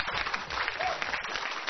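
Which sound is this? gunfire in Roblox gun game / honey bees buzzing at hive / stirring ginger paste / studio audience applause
studio audience applause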